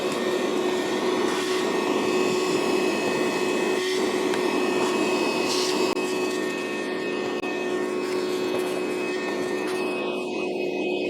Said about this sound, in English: I'm going to go ahead and clean this up with the vacuum.